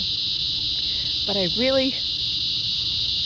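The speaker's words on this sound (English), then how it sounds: "cicadas." Cicadas drone steadily at night in a suburban garden, a loud, continuous buzzing chorus that runs throughout while a person speaks briefly in the middle.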